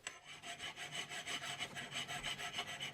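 A number 2 metalworking file rasps across metal in even back-and-forth strokes, about six rhythmic passes, close and fairly quiet, without talk.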